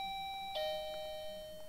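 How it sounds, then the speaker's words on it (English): A two-tone chiming doorbell rings in a Bloxburg house in Roblox, its clear electronic tones sounding close and sustained, with a second ding cutting in midway and ringing on alone. "The doorbell sounds like this."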